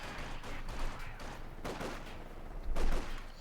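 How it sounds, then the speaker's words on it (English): MG42 machine gun fire in the WWII strategy game Company of Heroes 2 comes as dense, overlapping bursts of gunfire with some heavier thumps, heard mid-battle at moderate loudness. "so they don't get a face full of MG42 fire"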